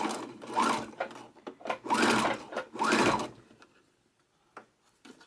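A sewing machine sewing a seam close to the folded edge of a placemat, three short buzzing bursts of stitching with brief gaps, followed by quieter handling clicks and near silence.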